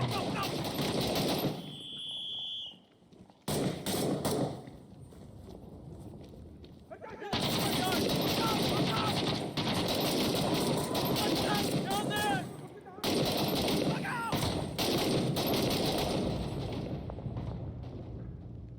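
Gunfire rattles through a firefight in Fallujah, with long bursts of loud automatic fire broken by short lulls, and voices audible amid the shooting.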